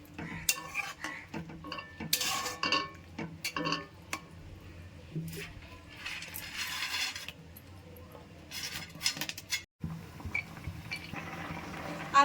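A metal spoon scrapes and clinks against a pot of ridge gourd shukto curry in repeated bursts of stirring, with brief pauses between strokes, close and fairly loud.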